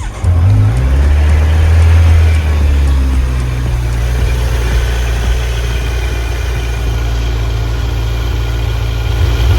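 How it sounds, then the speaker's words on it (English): A Kawasaki Z900 motorcycle engine idles steadily after startup to warm its oil, a loud, continuous low rumble that holds even throughout with a slight rise in revs near the start. "we're gonna start the bike up, let it run for a little bit to let the oil warm up"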